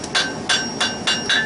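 Hammer striking hot metal on an anvil during forge welding of scroll and leaf work: five sharp, ringing blows in a steady rhythm, close and loud, with no talk.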